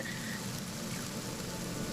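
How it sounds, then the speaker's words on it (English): Soft, steady patter of rain falling on a surface, a dense even hiss with no voices and no breaks. "The room was silent, save for the soft patter of raindrops"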